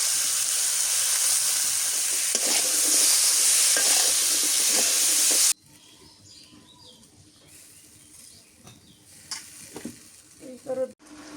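Potatoes dropped into hot oil with turmeric, sizzling loudly and steadily in the pan for about five seconds, then a quieter low crackle with a few stirring scrapes and clinks toward the end.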